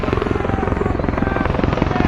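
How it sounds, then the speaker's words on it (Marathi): A helicopter carrying a cabinet minister arrives at a rally in Kingaon, its rotor beating in a loud, close, rapid, steady chop throughout. "किनगाव नगरीमध्ये हेलिकॉप्टरने पंकजाताई मुंडे, कॅबिनेट मंत्री, पर्यावरण पशुसंवर्धन मंत्री किनगाव नगरीमध्ये"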